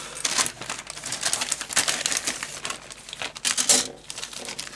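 An Airfix Hawker Tempest Mk.V model kit's plastic bag is torn open and handled up close, giving a burst of sharp crinkles and rustles in uneven bursts with no voice over it.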